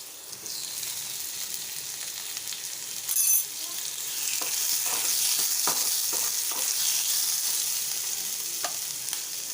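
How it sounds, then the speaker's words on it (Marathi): Onion and tomato fry in oil in a pan on a gas stove, giving a steady soft sizzle with a brief louder clatter and a few light stirring scrapes. "गॅसवर ठेवलेला एक पॅन थोडं तेल घालून कांदा भाजून घ्यायचा आहे"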